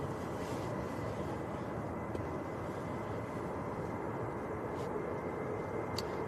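A Ryanair jet with Maltese registration 9H-QCI begins its takeoff roll at Manchester Airport on a windy day, giving a steady, distant engine roar and wind rumble that holds level throughout.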